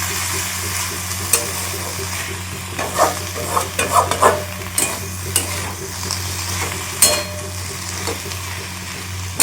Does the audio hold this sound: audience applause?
no